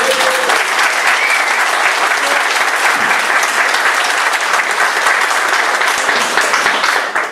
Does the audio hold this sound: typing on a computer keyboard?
no